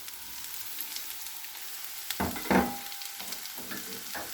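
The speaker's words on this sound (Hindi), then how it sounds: "अब इनमें शिमला मिर्च डाल देंगे" Chopped capsicum hits a hot frying pan for chicken cheese rolls, giving a soft steady sizzle with a couple of brief louder bursts as it lands and is stirred.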